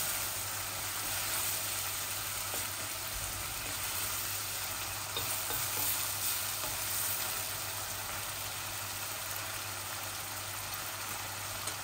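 Ginger garlic paste fries in a hot pan for a rohu fish head curry with potatoes, giving a steady, even sizzle that holds unbroken throughout with no voices.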